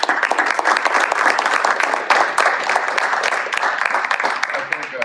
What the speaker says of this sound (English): a huge round of applause to all the brave hearts who came up on stage today